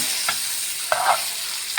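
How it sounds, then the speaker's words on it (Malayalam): Steady sizzling of fish shallow-frying in a pan, with a few soft clinks and scrapes as it is stirred. "നമ്മളിപ്പോൾ ഷാലോ ഫ്രൈ ചെയ്യുക ഡീപ് ഫ്രൈ ചെയ്യാറുണ്ട്"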